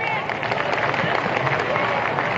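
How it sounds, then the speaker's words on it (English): Baseball fans at a ballpark applaud a hitter coming off two home runs, a broad wash of crowd clapping heard from a distance under steady crowd noise. "he gets a nice round of applause from the fans here"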